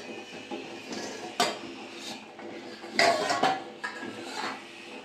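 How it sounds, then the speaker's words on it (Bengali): A metal lid comes off a pot of steamed chicken momos with clanks and scrapes, several sharp metallic knocks and rattles spaced over a few seconds, close by. "15 মিনিট হয়ে গেছে, ঢাকাটা খুলে নেব।"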